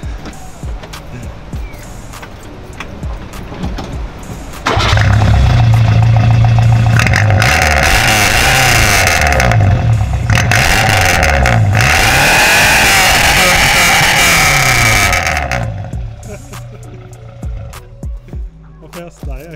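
A modified Renault 4 engine fitted with a Renault GT Turbo exhaust revs hard and loud for about ten seconds, a rough, throaty roar with rising and falling pitch, with people talking before and after.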